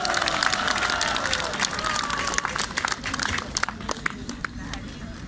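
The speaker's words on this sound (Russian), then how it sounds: "давайте аплодисментами поддержим и поприветствуем народного депутата Украины Наталью" Crowd applause greeting a Ukrainian people's deputy at a public rally, loud dense clapping mixed with cheering and crowd noise, thinning toward the end while a voice speaks over it.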